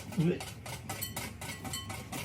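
A whisk beats an oil mixture for pandan cake in a bowl, with repeated rhythmic scraping and clinking strokes, close and moderately loud, with no talking.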